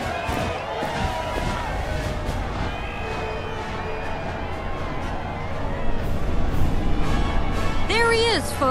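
A parade crowd in Final Fantasy VII Rebirth cheers as a steady, loud roar with clapping and scattered shouts, while a voice talks over the noise near the start.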